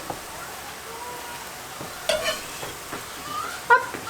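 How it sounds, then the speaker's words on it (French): Sliced onion and garlic cooking in olive oil in a pan, a soft steady sizzle with the scrape and clack of a stirring utensil now and then, close by and fairly quiet. "je vais y faire revenir un oignon émincé, un gros oignon émincé et une gousse d'ail"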